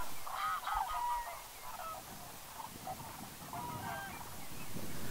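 Cranes gather at Pulken near Yngsjö, honking and trumpeting in a loud overlapping chorus from many birds against a steady outdoor rumble, with no voices.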